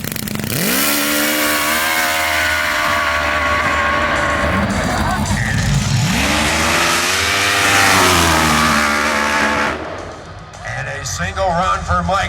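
A racing drag snowmobile screams down the track at over 160 mph, its engine pitch climbing through loud rising sweeps before cutting off sharply near the end, followed by faint crowd noise.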